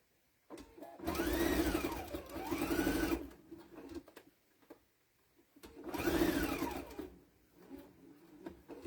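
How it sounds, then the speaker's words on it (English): Sewing machine stitching fabric for a bird-shaped potholder, running in two close, steady bursts of a few seconds each, separated by a pause, with no talk over the whirring motor. "I'm going to sew about from here so I can fit that in."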